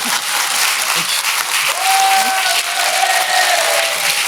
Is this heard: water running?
no